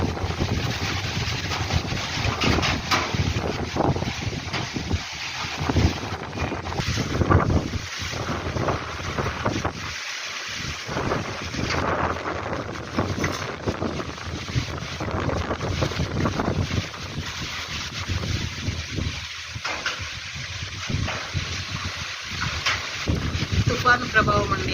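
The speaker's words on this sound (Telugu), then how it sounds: "గాలి సౌండ్ చూసారా ఎలా వస్తుంది అసలు." Strong wind from Cyclone Montha blows through trees in West Godavari during rain showers, gusting in a loud roaring rush with microphone buffeting while a voice talks at times.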